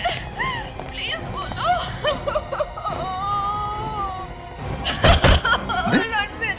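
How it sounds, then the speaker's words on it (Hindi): A person crying indoors in a Hindi crime drama scene, with wavering whimpers and sobbing wails over room noise and a sharp bang near the end. "हाँ सर ये तो रोने की आवाज है।"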